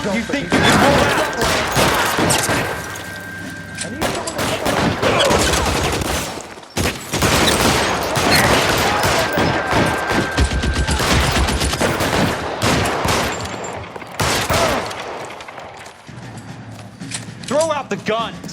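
Dense gunfire rattles through a shootout in the video game L.A. Noire, loud bursts and rapid shots packed together with a brief lull midway, while voices shout between the volleys.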